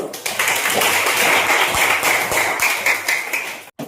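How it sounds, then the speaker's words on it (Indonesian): A classroom of tenth-grade students claps together in a dense burst of applause, steady for a few seconds before abruptly stopping, with a few voices underneath. "Tepuk tangan semuanya."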